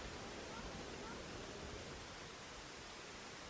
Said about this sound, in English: It's really loud, that waterfall is.